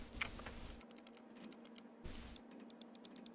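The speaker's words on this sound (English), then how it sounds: "That's a keyboard. Click, click, click." Computer keyboard clicking in the Everlasting Summer game, a quick run of light, crisp keystrokes heard faintly over a low steady hum, with no voices.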